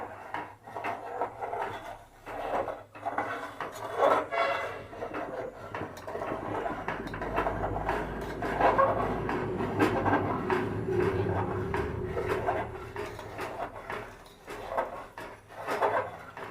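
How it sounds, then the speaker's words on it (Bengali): Milk with cornflour and Amul being poured and stirred in a pot, giving a continuous rumbling, scraping wash of sound with soft knocks throughout, fairly loud and close, with no talk. "ঢালছি তুমি একটু নেড়ে দাও কর্নফ্লাওয়ার আর আমুল দিয়ে"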